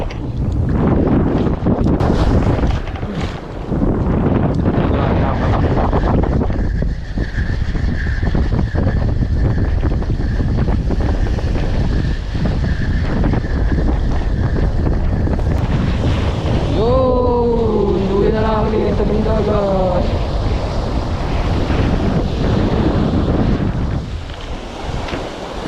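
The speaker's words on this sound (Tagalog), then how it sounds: "Masyado mahangin mga master." Strong sea wind roars across the microphone continuously while fishing from a boat on open water, with waves and a voice talking briefly partway through.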